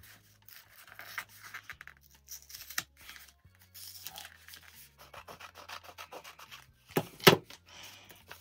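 Awl scoring around the edge of a thin foam heart, a series of short, close scratchy rubbing strokes in irregular bursts, with a sharper crinkling scrape near the end and a low background hum.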